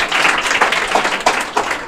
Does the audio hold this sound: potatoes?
no